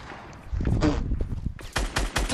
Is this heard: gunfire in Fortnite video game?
yes